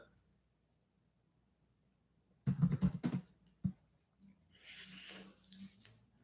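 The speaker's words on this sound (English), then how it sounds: "Apologize if the typing is a little loud." A short flurry of quiet keyboard clicks after a near-silent stretch, followed by a single tap and faint background breathing-like noise.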